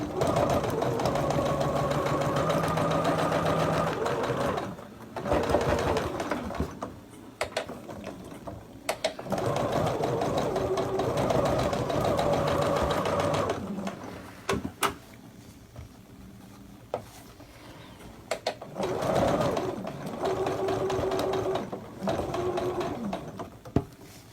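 A sewing machine stitches a quilt top in several long, steady runs of mechanical whirring, broken by brief stops and soft fabric handling, close by.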